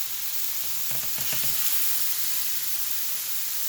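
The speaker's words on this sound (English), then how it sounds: "And you are going to place your patties in the pan." Beef patties for a chopped cheese sandwich hit a hot frying pan and sizzle loudly and continuously, with a brief burst of crackling spatter early on.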